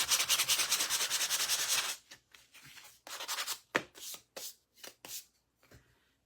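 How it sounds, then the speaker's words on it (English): A small power sander buzzes against a wooden Santa boot from a craft kit in a steady close run, then gives way to short, separate rubbing and scraping strokes on the wood. "a little sander. And we're going to sand this just a smidge."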